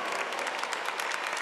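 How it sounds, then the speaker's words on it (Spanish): A crowd at an outdoor Mass during World Youth Day in Lisbon applauds religious brothers and sisters, a short dense patter of many hands clapping. "¡Un aplauso!"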